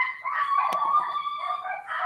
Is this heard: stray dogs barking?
yes